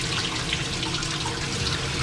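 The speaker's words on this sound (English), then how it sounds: "as we rinse off, you want to let the water drip down to your elbows and run off your elbows there" Tap water runs steadily into a sink as arms are rinsed during surgical scrub preparation for the operating room, a continuous close splashing hiss with no voices.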